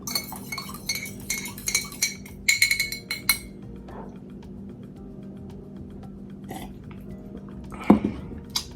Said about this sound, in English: I'm just gonna take this fork and go in there and stir that up